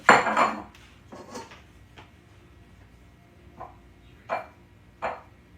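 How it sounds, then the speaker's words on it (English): Dishes clatter as a white bowl is pulled from a stack, a loud ringing clank first, then a few softer knocks and a couple of later sharp clinks, close by with no talking. "let's get this white bowl"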